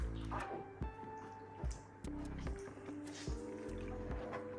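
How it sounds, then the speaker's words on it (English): Wet squishing and dripping as kava is kneaded by hand in a bowl of water, repeated squelches recurring every second or so over a steady tonal background. "You kind of just massage it and let the kava flavors come out into the water."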